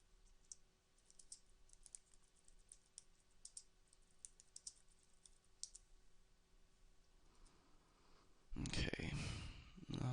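Faint keystrokes on a computer keyboard tap out in a quiet, irregular stream, then a sudden louder rustling burst takes over near the end.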